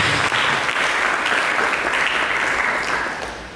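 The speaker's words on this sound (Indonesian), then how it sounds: "berikan tepuk tangan bagi Yesus Kristus." Sustained applause from a church congregation in a worship service, a thick wash of many hands clapping at once, loud and even before easing off in the final moments.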